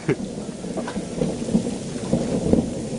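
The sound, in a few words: rumbling of volcanic eruptions, not thunder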